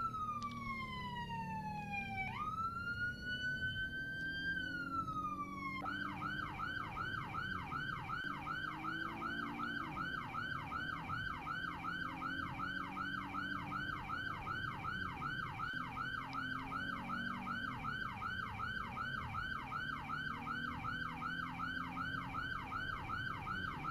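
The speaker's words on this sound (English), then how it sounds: "I did hear a fire engine pass" Fire engine siren in the video game Roblox, a continuous loud wail that sweeps up and down, then shifts into a rapid yelp pattern, with engine noise underneath and no talk.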